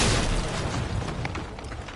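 Grenade explosion in Resident Evil 3 Remake, a single loud, close boom at the start that decays into a rumbling tail.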